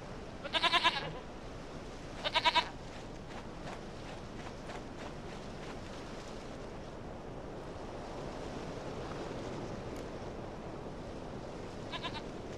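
Two short, high goat bleats in The Witcher 3 video game, followed later by a third fainter one, all over a constant surf-like outdoor ambience.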